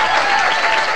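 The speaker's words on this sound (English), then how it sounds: "And Graham Lassen, a great round of applause." A crowd at a candlepin bowling alley applauds a bowler with loud, dense, continuous clapping that stays even throughout the brief burst.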